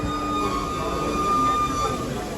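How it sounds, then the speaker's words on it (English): The Walt Disney World Railroad steam train Roger E. Broggie at the Magic Kingdom gives a steady mechanical rumble with a thin metallic whine, a close continuous sound under faint voices. "So let's go ahead and board the train."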